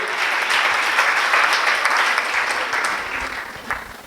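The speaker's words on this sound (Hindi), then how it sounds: "मुझे लगता है एक बार जोरदार ताली होनी चाहिए भाटे सर के लिए" Loud, sustained applause for Bhate sir at a poetry event, many hands clapping together in a thick, even roar that stays strong for about four seconds before easing slightly.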